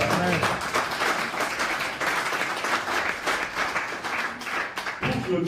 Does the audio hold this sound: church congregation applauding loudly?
yes